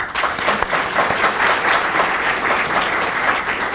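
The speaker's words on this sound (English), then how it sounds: "another round of applause" Steady audience applause at a public event after a talk by Virginia's Secretary of Education, with sustained, even clapping from start to finish and no speech over it.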